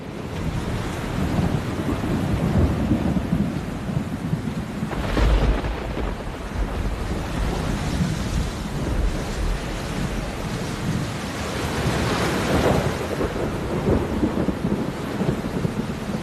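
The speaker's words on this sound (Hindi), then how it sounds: "तूफान से पहले बारिश की दस्तक।" Heavy rain and rolling thunder ahead of Cyclone Nivar in southern India, a dense constant roar of rainfall with two louder thunder swells, no voices.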